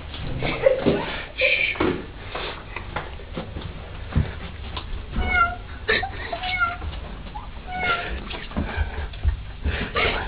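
Soft, fairly quiet cat meows come in short bursts over faint background talk and shuffling sounds.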